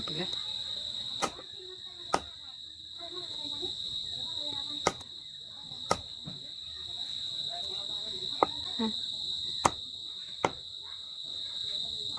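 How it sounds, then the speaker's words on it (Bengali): Crickets chirp at night in a steady, high-pitched drone throughout, with scattered sharp clicks and a muffled voice talking faintly underneath. "রাত বাড়ার সাথে সাথে ঝিঝি পোকার ডাকও বাড়তে আছে"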